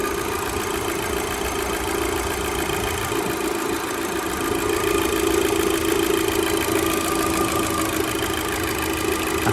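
A 2.0 TFSI EA113 engine in a Mk2 Audi TT idles slightly rough with its MAF sensor still connected, a steady, close mechanical hum with a faint uneven knock running the whole time, no talking.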